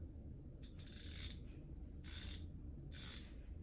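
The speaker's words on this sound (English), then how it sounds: "A ratchet wrench or a ratchet handle contains a one-way mechanism that allows the socket to be turned without removing it from the nut or bolt" A ratchet wrench handle is cycled back and forth, giving three bursts of dense mechanical clicking from the pawl, close and fairly loud, with short pauses between strokes and no talking.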